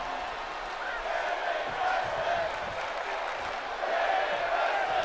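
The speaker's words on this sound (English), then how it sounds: "Crowd chanting women's wrestling." A large arena crowd in WWE 2K22 chants at an NXT New Year's Evil wrestling event, a steady roaring wash of voices swelling and dipping throughout, fairly loud and continuous.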